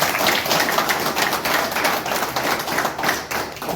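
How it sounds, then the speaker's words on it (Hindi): A crowd at a Sanatan Hindu Vahini gathering claps loudly and continuously, a dense, steady roar of hands with no break and no voices. "जोरदार ताली हो जाएगी"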